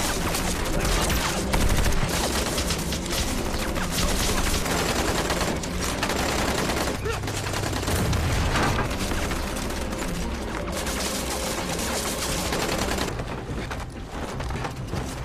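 Machine guns rattle in a gunfight as a dense, sustained fusillade of rapid shots, loud and unbroken, with sharp bursts layered over each other.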